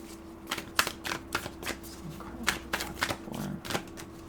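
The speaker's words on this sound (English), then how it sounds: "This is why I don't like shuffling near the reading" Tarot cards being shuffled by hand close up, a series of quick crisp riffling bursts and soft slaps in an irregular rhythm, quiet and alone.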